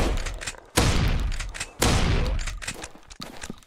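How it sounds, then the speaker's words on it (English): Shotgun blasts in the zombie game Zombie Island, three heavy booming shots spaced about a second apart, each with a long decaying roar. "Oh my god, it's a shotgun."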